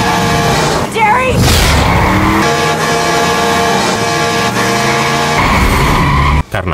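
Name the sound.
truck speeding up behind a car, Jeepers Creepers film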